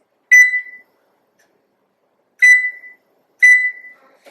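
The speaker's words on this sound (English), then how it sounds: "So I'm going to set my timer for 27 minutes." An oven timer beeps as it is set for baking, three sharp electronic beeps, the first followed by a long pause and the next two closer together, clear and close with silence around them.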